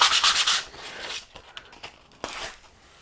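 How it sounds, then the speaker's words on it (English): Wood veneer inlay is sanded by hand with 120-grit paper, a fast run of close, rasping rubbing strokes at first, then slower, softer scrubs and a few sharp scrapes, with no talk. "So I'm just going to hand sand."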